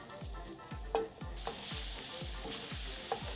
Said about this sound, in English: Our olive oil is good to go. It's nice and warm. I'm gonna add in my garlic.